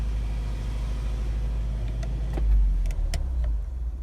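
A 2013 Ford Transit medium-wheelbase high-roof van idles with a steady low diesel rumble, then a few clicks and a brief swell near the end as the engine is switched off.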